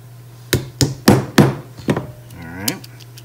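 A polymer hammer taps frame pins back into an LC9s/EC9s pistol frame after a short stroke trigger install: five sharp, close knocks in an uneven rhythm, then a brief rising squeaky tone.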